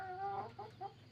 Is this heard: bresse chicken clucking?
yes